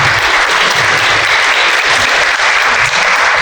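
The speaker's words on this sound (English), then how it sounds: "Little round of applause." Loud, steady applause from a talk audience, dense even clapping that holds without pause and with no voices over it.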